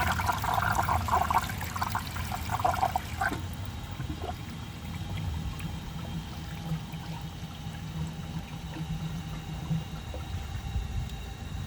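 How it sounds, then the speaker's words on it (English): A 1983 Eljer Hygeian toilet flushes but fails to siphon, with a burst of rushing, churning water for about three seconds, then a steady trickle and gurgle of water running into the bowl, close and fairly quiet. "it tried to siphon. I could hear it out at the bottom, but it did not siphon."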